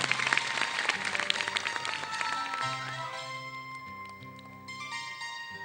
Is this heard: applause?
yes